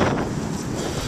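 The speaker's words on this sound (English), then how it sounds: "it's a bit windy and cool on the park" Wind buffets the microphone in an outdoor park on a cool day, a steady, loud rumbling gust that fills the brief moment alone.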